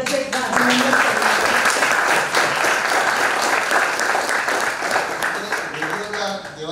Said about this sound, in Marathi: जोरात टाळ्या वाजवून ललिताचं एकदा अभिनंदन करूया.